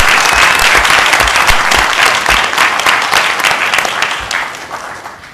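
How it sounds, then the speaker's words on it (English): Loud, sustained audience applause at a panel discussion, dense clapping from a large crowd holding steady before slowly tapering, with no voices over it. "Let's give him a wonderful round of applause."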